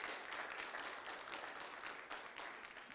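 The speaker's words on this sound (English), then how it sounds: "So y'all give yourself a round of applause" An audience at a district monthly community meeting applauds, soft continuous clapping from a room full of people, faint and fairly distant, holding steady and easing slightly toward the end, with no talk.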